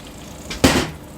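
Potatoes drop into a roasting tray holding turkey juices and butter, making one soft, brief thud with a faint lead-in rustle, close and alone.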